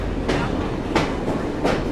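Train passing in the video game Assassin's Creed Syndicate, a steady loud rumble with rhythmic clacking bursts about every two-thirds of a second, faint speech underneath.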